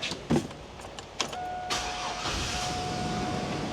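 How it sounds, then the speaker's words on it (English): A truck engine cranks briefly with a starter whine, then catches and settles into a steady idling rumble, close by. "Let's see if it's going to start the truck."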